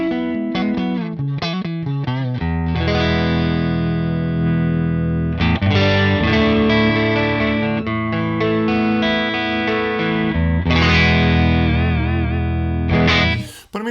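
Electric guitar played through a captured D20 amp profile on an IK Multimedia AXE IO One interface, with a distorted, chorus-tinged tone ringing out in sustained chords and riffs, loud and continuous with no talk.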